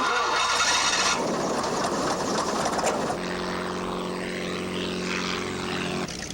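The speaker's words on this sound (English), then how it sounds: "teaching aerobatics over Long Island in this Navy fighter trainer" Navy fighter trainer propeller plane flying aerobatics over Long Island, a loud droning engine that surges and shifts pitch as it maneuvers, then settles into a steadier hum.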